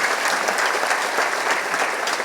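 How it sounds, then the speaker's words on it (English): Steady, dense applause from an audience at an education stakeholders' meeting, continuous and fairly loud throughout with no breaks. "Let me propose a round of applause for all those who gave wonderful suggestions."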